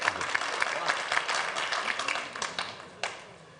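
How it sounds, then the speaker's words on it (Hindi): Audience at a Holi celebration poetry gathering applauds a poet, a dense wash of clapping from a crowd that swells in bursts and stays steady throughout. "कम है इनके लिए ये तालियां, मैं बता रहा हूं आपको।"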